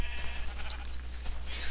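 A Minecraft sheep bleats in the video game, a single drawn-out electronic bleat over a steady low hum, fairly quiet with no talking.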